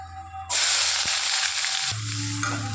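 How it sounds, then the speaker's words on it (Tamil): Chopped onions tipped into hot oil with popped mustard seeds, for an arai keerai greens dish, burst into a loud, steady sizzle, with a few stirring scrapes and clinks underneath. "வெங்காயம் போட்டுக்கலாம்."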